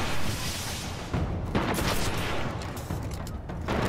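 Continuous rocket launcher fire in the video game Destiny, with loud, dense blasts and booms running through the whole stretch and a few sharper hits standing out near the middle, with no talking.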